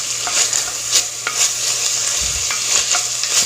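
Garlic and anchovies sizzle in a frying pan while being stirred, a close crackle broken by repeated scraping strokes of a utensil and a light clatter against the pan.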